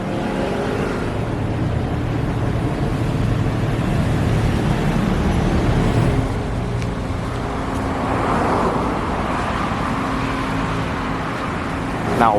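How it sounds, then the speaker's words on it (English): A city bus rolls through busy street traffic alongside passing cars, forming a steady, continuous roadway rumble that swells slightly near the end, with no clear talk over it. "Oh, and there's the city bus."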